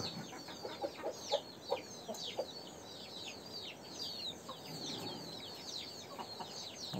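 A castrated rooster clucks and calls in a busy run of short, sharp notes, fairly distant over a soft ambient background, with a few louder calls early on.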